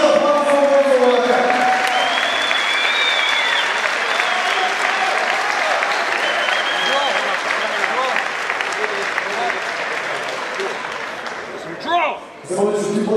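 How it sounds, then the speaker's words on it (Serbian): Sustained, loud applause from the audience at TCC 7, a 2011 event in Serbia, continuing steadily for about twelve seconds before briefly swelling and dropping off near the end. "Molim vas još jedan aplauz za ovog momka."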